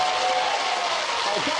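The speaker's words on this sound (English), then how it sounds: "Can we get a right round of applause for Gary?" A TV comedy panel show studio audience applauds, a dense steady burst of clapping filling the short stretch.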